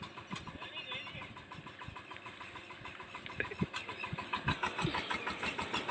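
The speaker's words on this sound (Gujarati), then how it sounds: "આ ટ્રેક્ટર છે તો હિંગડી વાળું ટ્રેક્ટર કહેવાય" A crank-start tractor engine runs at a village farm, its steady knocking pulse continuous throughout and growing slightly louder near the end, while people talk over it.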